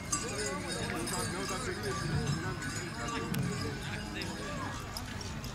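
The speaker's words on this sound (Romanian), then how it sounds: "Aici alți cai frumoși, bine îngrijiți." Horses being led at an exhibition horse fair in Bradu, Sibiu, hooves clip-clopping steadily in a dense, busy outdoor crowd, with people talking throughout.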